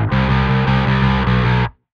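A distorted bass guitar plays a black metal bass line, a loud, gritty sustained tone with a few quick note changes before stopping abruptly, heard alone.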